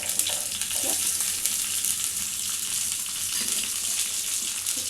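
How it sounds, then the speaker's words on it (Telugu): Crushed garlic fries on a low flame to temper spinach dal, making a soft, continuous sizzle close to the pan with a few faint clinks, and nobody talks. "స్టవ్ చిన్న వేసుకొని మంచిగా ఫ్రై అయ్యేంత వరకు వేసుకొని"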